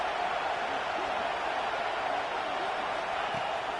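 Football stadium crowd roaring steadily behind the home defense before a first-down snap in the red zone, a dense, continuous wash of cheering that holds at an even level throughout.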